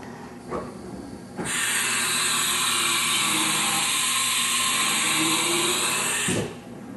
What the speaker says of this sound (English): Where you have simulating a tool change.